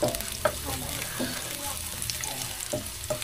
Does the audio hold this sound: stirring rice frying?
yes